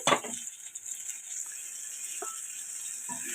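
Tomato and vegetable pieces frying gently in a pan over a low flame, giving a steady, soft, continuous sizzle with a few faint clinks early on and no talking.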